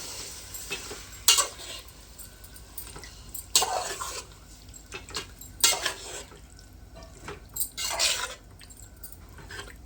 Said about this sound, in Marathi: आता आहे ना चिकन चांगलं मिक्स करून घेऊया.